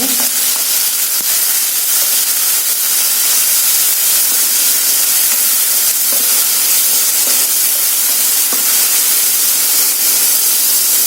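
Tomatoes frying in oil in a pan for a peanut and green chilli chutney, a loud, continuous sizzling hiss with small crackles and pops scattered through it, heard close and alone.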